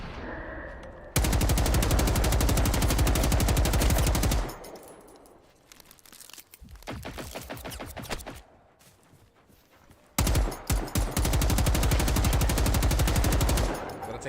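Rapid automatic gunfire in the video game Generation Zero, loud sustained bursts of several seconds each, separated by a quieter stretch of short broken volleys before a final long burst.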